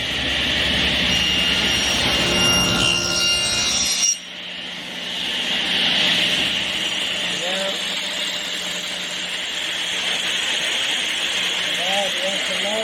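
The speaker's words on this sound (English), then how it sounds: "So we're going to do the first cut here, and we cut these 1/2 inch deep." A saw makes a half-inch-deep first cut into wood: a loud, steady, broadband whine for about four seconds, then it drops off into a quieter running hum with faint chirps.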